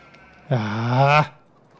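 A chicken in the Farming Simulator 2013 video game gives a single loud, drawn-out squawking cluck lasting under a second, close and alone with no talk over it.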